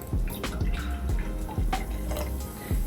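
Piper Sonoma Brut NV sparkling wine is poured into a glass, giving a close, trickling splash with fizzing pops and drips, and no talking.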